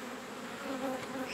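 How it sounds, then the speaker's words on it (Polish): Honeybees buzzing around an open hive during a spring swarm-prevention inspection as rapeseed blooms, a dense, close hum with wavering tones as foragers return from the field. "Teraz robi się coraz więcej pszczół"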